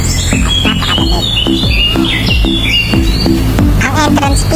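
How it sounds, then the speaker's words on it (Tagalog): Birds chirp and tweet in trees at a waterfall in Tanay, Rizal, with several overlapping calls near and far over a constant rushing background. "Puno ng ibon kayong maririnig."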